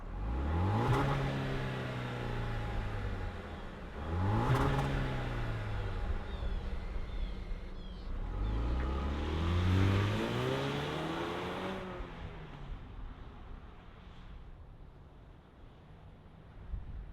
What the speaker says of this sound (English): let's fire it up and hear if this Land Rover makes any noise